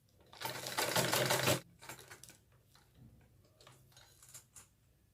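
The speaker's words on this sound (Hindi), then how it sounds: "हाफ कॉलर हमने इस तरह से सिल दिया है" A sewing machine stitches the collar of a kurti in a fast, rattling burst of about a second, followed by quieter short runs and faint clicks.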